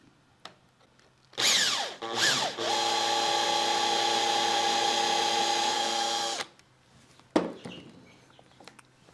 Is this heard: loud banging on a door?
no